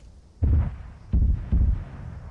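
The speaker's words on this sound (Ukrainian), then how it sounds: "Почалася стрілянина." Three heavy, booming gunshots or blasts from the video game Arma 3 land about a second apart, each a loud low thud with a short rumbling tail, with quiet background between them.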